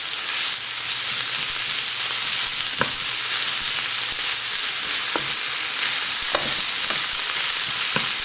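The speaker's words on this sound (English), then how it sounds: "saute them with the chicken" Vegetables and chicken sauté in a pan, with a continuous bright sizzle and hiss and a few soft stirring taps at intervals, close up with no voices.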